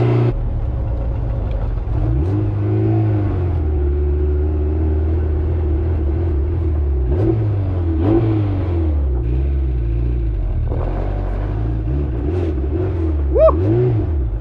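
Honda S2000 with a fully built K24 engine heard from inside while driving, a loud, steady engine drone rising and falling through several rev swells and gear changes, with a brief whine near the end.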